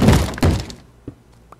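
A zombie batters and breaks a wooden door in Minecraft, a loud crunching thud at the start that fades, followed by a couple of faint knocks.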